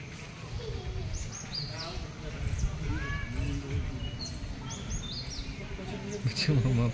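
Birds chirp and whistle in a children's garden with a fish pond near a temple, scattered faint calls set against steady outdoor background noise while people talk throughout.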